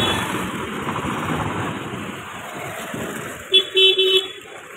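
Car horns honk in a short cluster of several toots near the end, over a steady wash of passing road traffic outside a Kali Puja pandal in Tarapur's Manipuri basti.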